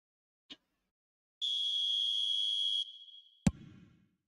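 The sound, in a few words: referee whistle for offside in eFootball video game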